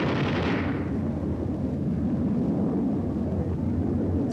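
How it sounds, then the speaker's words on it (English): A huge wartime explosion in Korea rumbles as a deep, sustained roar that swells and rolls on for several seconds, with a brief higher burst at the start. "But you can see the scale of this explosion is huge too."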